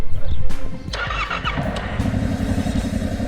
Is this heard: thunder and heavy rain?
no